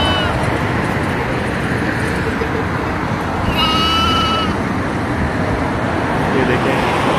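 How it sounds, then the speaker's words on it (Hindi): Goat at an outdoor sheep and livestock sale market in Madina, giving a brief bleat midway over a constant bed of traffic noise and crowd murmur. "ये कैसा बकरा है माशाल्लाह।"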